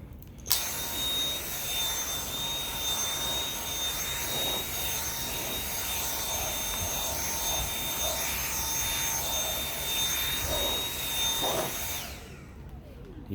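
A Dyson V7 cordless vacuum fitted with its upholstery tool runs steadily on a sofa, a loud continuous motor whine with a high tonal hum lasting throughout before cutting off near the end.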